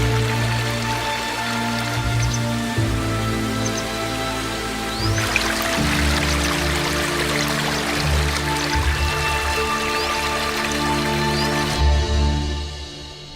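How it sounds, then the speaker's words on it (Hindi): Meltwater on the Svalbard coast starts to flow after five months frozen as ice, making a steady wash of trickling and splashing that runs throughout, layered under sustained tonal music. "पिछले 5 महीने से बर्फ बना पानी आखिरकार बहना शुरू होता है।"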